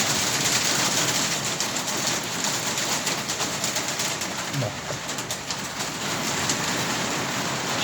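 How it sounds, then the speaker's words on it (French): Rain falling outside an insulated garage as a dense, continuous hiss of drops on a surface, with a pigeon cooing faintly in the background and a single spoken word. "Ce que vous entendez, c'est la pluie."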